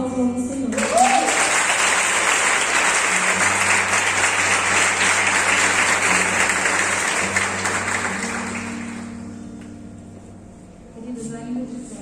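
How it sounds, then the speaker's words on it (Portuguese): Church congregation applauding during a worship service, sustained crowd clapping with a low sustained keyboard tone underneath, fading out toward the end before a voice returns. "E as palmas vão ao Senhor."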